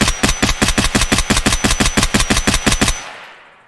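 Rifle fire in the shooter Escape From Tarkov: about sixteen loud, evenly spaced shots crack off in quick succession, then the echo tails away into silence.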